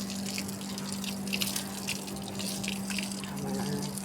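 Water poured onto cement in a garden plot, giving a continuous splashing and trickling rush with scattered drips, alongside a steady low hum.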